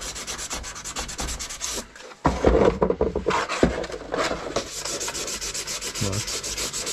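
400-grit sandpaper rubs over an RC car body in quick, close scratchy strokes, pausing briefly and then resuming with a busier, louder burst of sanding.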